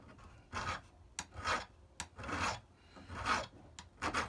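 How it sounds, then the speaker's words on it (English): A small hand file rasps along the edge of a steel vise jaw, clamped down for smoothing, in slow back-and-forth strokes of about five rough passes, close and moderately loud with brief gaps between. "I'm just going to hit that with a file, just take that down a little bit so it's nice and smooth"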